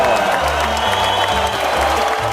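Loud, dense applause fills the whole moment, with a crowd clapping continuously and steady music playing underneath.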